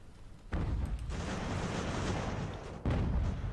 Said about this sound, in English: now we're taking some shells from their artillery